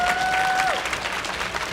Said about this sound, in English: Give him a big round of applause also.